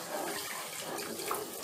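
Water is poured into a pan while mango rava kesari cooks. It makes a short, fairly faint stream of splashing liquid.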